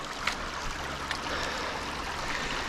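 Running water of a creek in the Lusk Creek Wilderness, a steady broadband rush and trickle that fills the whole stretch without a break, close by and fairly quiet, with no voices.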